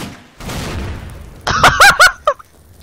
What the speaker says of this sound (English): Now all you have to do is take the gun and fire now